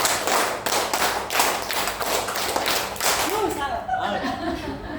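A roomful of adults doing a counted group clap game at a teachers' workshop, a run of quick rhythmic claps in unison that stops partway, followed by chuckles and talking voices.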